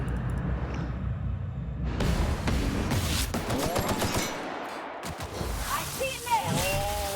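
Bursts of rapid gunfire in The Outer Worlds come in loud volleys with whooshing effects, mixed with game sounds and a player's excited talking.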